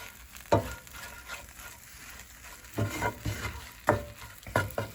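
Refried black beans with chipotles in adobo sauce being stirred in a pan, a low continuous sizzle broken by several louder scraping strokes of a spoon, with no voices.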